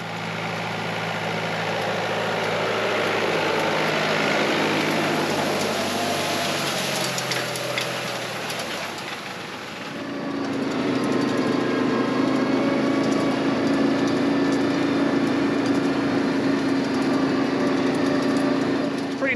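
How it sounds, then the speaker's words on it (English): A farm tractor pulls a hay rake through dry hay, its tines sweeping the crop into windrows; steady close engine drone that shifts to a lower, smoother hum partway through, with no talking. "that moves things on over to raking, where we take that dry crop and put it in windrows so the baler can pick it up"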